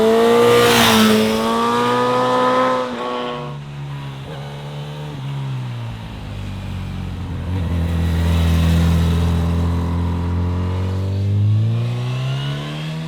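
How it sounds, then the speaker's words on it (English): Honda CB1000 Hornet SP four-cylinder motorcycle engine revving hard, loud and close, with rising and falling harmonic sweeps across several throttle blips and a rough, slightly dirty intake growl. "When you open the throttle, you get that classic intake growl from a four-cylinder,"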